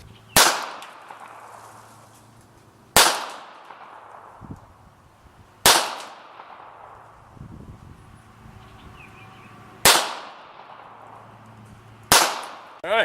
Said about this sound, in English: we'll shoot a few more rounds